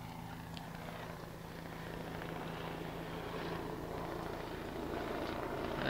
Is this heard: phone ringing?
no